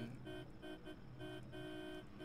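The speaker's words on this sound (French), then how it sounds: "le klaxon prend tellement d'énergie sur l'énergie totale du véhicule que..." A car horn honks repeatedly in The Crew racing game, several short bursts with brief gaps, moderately loud over a steady engine-like drone, no talk.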